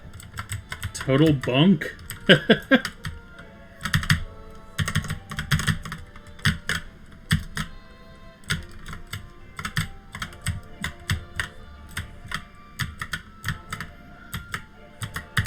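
Fingers tap a computer keyboard in irregular bursts of crisp clicks, close and clear, while game controls are being tested; a voice speaks briefly near the start.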